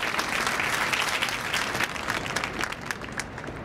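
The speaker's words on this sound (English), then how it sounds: "So let's give him a warm round of applause, please, as he comes up to do that." A warm round of audience applause greets World Bank President David Malpass at a women entrepreneurs finance forum, a full room clapping continuously and evenly for several seconds, fairly close and without speech.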